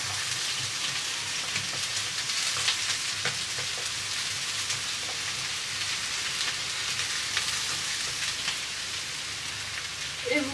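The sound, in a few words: ingredients frying in olive oil for a salmon tartiflette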